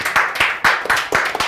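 Hands clap in a quick, even rhythm, about a dozen sharp claps close by, with almost no talk over them.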